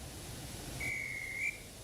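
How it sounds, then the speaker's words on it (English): A train guard's whistle blows in Thomas and Friends: a single shrill, steady blast lasting under a second over a low background rumble. "the guard's whistle blew"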